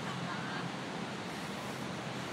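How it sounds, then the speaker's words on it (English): Ocean surf at the US/Mexico border in Tijuana rumbles as a continuous, broad wash of breaking waves with some wind noise, close and fairly loud throughout. "The ocean is pretty magnificent."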